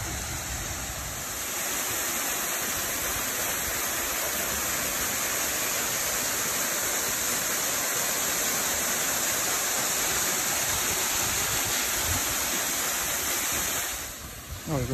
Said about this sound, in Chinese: 沿着步行道上来，就是这个瀑布。